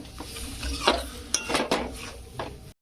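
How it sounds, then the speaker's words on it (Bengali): Potatoes for aloo dum are sautéed in a pan, a metal spatula knocking and scraping the pan in a handful of uneven clattering strokes over a faint sizzle, close up and without talk, ending abruptly. "এবার আমি আরেকটু ভালো করে কষে নেবো আলুটা দেওয়ার পরে কিন্তু একটু ফের ভালো করে কষতে হবে"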